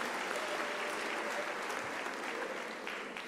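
An audience at a university academic-year opening ceremony applauds the management committee: dense, sustained clapping from a large hall, steady throughout and easing slightly at the end.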